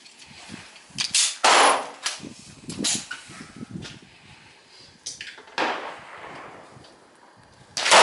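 A surplus Yugoslavian Tokarev M57 pistol fires surplus Russian ammunition outdoors, several sharp, loud shots spaced irregularly a second or more apart, each ringing out with a short echo.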